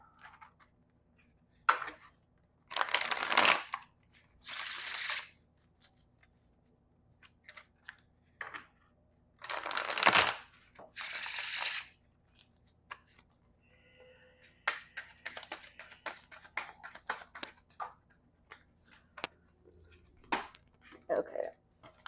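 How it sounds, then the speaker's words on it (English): A deck of tarot cards is shuffled up close in several separate bursts of quick papery riffling and flicking, with quiet pauses and light handling taps between. "let me just shuffle these a little bit."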